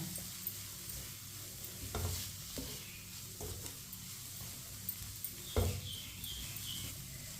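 Spice masala for karela cooking on a very low flame, a soft, quiet sizzle with occasional light stirring scrapes and taps, no voices.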